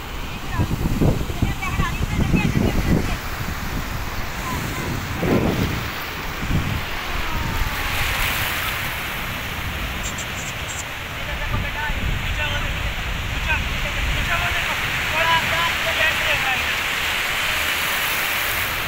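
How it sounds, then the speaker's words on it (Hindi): Sea waves break on the shore of the beach at Karachi, surging washes with gusty wind rumble on the microphone, while people talk over the roar. "ये बहुत बड़ी लहर आ रही है, ये देखें।"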